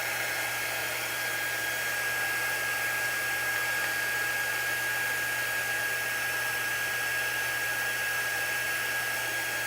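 A dryer blows steadily to dry ink on a painted sign, a loud continuous airy roar with a thin high whine running through it, close and unbroken with no talking.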